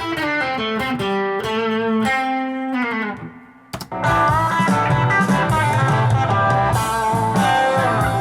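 An overdriven electric guitar plays a bluesy single-note lick with bends and slides, pausing briefly before a fuller, busier phrase continues.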